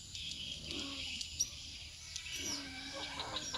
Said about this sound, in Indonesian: Bunyi burung walet kan?